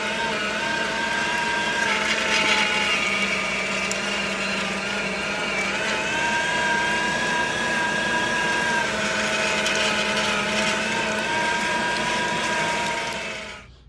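Electric meat grinder churning long strips of raw pork for homemade breakfast sausage, a steady whirring motor hum with slight pitch shifts as the meat feeds through, running continuously and close by.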